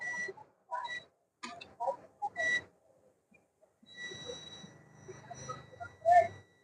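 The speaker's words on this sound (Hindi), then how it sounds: "देखो दोस्तों, यहाँ बीप आ रही है।" A multimeter on continuity test gives short electronic beeps while probing an LED TV panel for shorts, several brief tones broken by gaps and a longer sustained beep, with faint handling noise in between.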